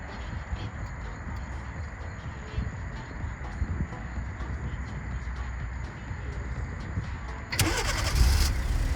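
A 2017-2018 Kia Forte's engine, started by remote starter, turns over and catches near the end, a sudden loud start rising over a steady low background hum.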